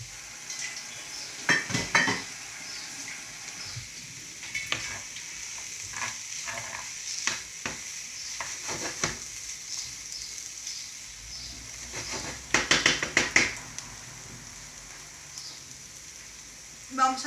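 Mackerel heads frying in a pan with softened sautéed vegetables, a continuous close sizzle broken by repeated crackling bursts and scraping stirs, with a cluster of louder spatters near the end.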